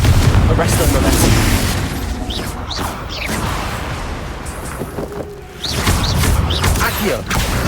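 Spell explosions from Confringo in Hogwarts Legacy combat: several loud booming bursts and pops over a busy game soundscape, with whooshes and impacts spread across the fight.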